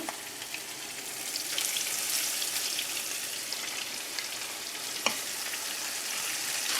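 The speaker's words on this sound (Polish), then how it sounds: "Smażyłam rybkę po 2 minuty z każdej strony." Fish fries in a hot pan for Greek-style fish, a soft continuous sizzle with scattered crackles and pops, fairly quiet and close, with no voices.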